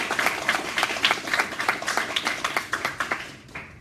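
A crowd applauds steadily, many hands clapping in a dense, continuous patter that tapers off slightly near the end.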